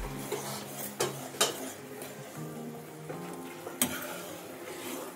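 Cardamom powder being stirred into boiling sugar syrup in a pan, with a bubbling simmer underneath and a few sharp metallic clinks and scrapes of the spoon against the pan, close and fairly quiet.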